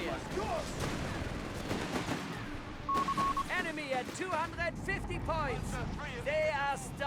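Artillery fire and explosions in the World War II strategy game Company of Heroes 3, repeated booms and gunfire crackle spread throughout, mixed under an energetic commentator's continuous talk.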